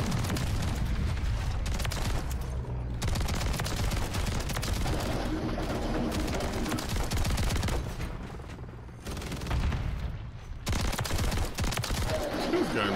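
A Haymaker automatic shotgun fitted with a JAK Maglift fires in Modern Warfare 3. Heavy, rapid blasts sound in long dense strings, with brief pauses and booming impacts, close and loud.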